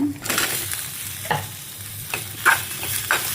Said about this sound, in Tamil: வெங்காயம் கொஞ்சம் வணங்கிடுச்சு, இப்போ தக்காளி போட்டுக்கோங்க கூட